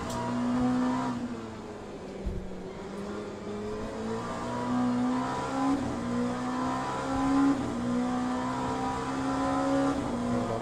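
Race car engines in the racing sim Le Mans Ultimate drone and rev steadily, pitch rising and falling through gear changes with a loud, continuous engine note during qualifying in traffic.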